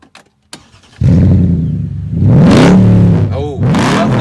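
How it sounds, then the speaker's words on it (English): Mercedes B55 AMG engine on a private racetrack in Rastatt firing up after a few clicks, catching into a loud idle, then rising through two sharp throttle blips with a revving swell and falling back, close and dominant. "Let me fire up the engine."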